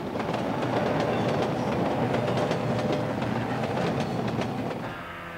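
A train rumbles steadily past on the rails, its wheels clacking rhythmically over the track joints, loud and close before easing off at the end.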